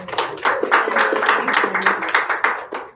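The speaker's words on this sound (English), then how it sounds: "We're gonna give you a clap." Audience clapping for a young contestant at a K-2 school spelling bee, a steady patter of hand claps from a small crowd, fairly close, with a voice faintly underneath.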